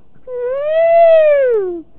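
A human voice imitates an elephant's call in a children's storytelling talk show, one rising and falling trumpeting wail lasting about a second and a half, loud and close with no other sounds.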